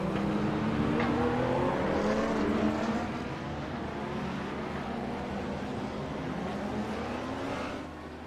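GT3 race cars idling and rolling slowly behind the pace car at Imola in a racing game, a steady engine drone with layered, gently rising and falling pitches, continuous and fairly loud, with no talk.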